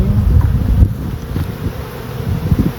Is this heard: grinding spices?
no